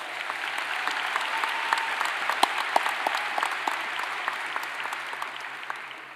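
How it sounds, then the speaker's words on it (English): Steady audience applause fills a hall at the annual Miami Herald/el Nuevo Herald Silver Knight Awards ceremony, a dense, even patter of many hands clapping close by and continuing throughout without voices. "A round of applause."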